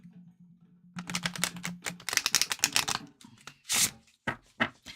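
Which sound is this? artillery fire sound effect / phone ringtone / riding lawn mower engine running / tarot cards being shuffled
tarot cards being shuffled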